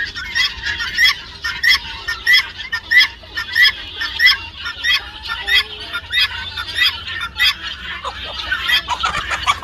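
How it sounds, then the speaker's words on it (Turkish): A female guinea fowl calls over and over in a steady rhythm, each harsh two-part cry loud and near, repeating without pause for about ten seconds. "Bu da dişi bir beş tavuğu."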